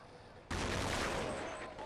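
Gunfire erupts suddenly in a Counter-Strike 1.6 match, a loud burst of USP pistol shots that rings out and sustains before tapering slightly.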